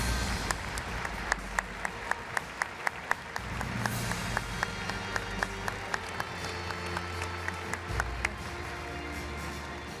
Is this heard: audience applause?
yes